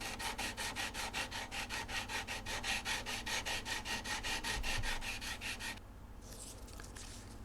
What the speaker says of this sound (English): I'll take those scratches off with a diamond grit file